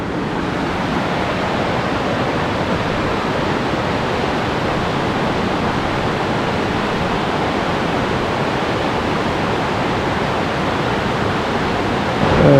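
Steady rushing roar of the Spokane River, a dense, unbroken wash of flowing water heard close and loud with no voices.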